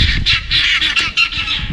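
Guinea fowl squawk loudly and close in a rapid chain of harsh, repeated shrieking calls with no pause throughout.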